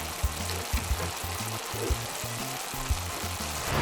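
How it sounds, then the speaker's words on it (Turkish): Fish sizzling and frying in a pan in a play café kitchen, a steady low hiss with a few soft knocks and clatters, no voices. "Balıklarımız pişiyor."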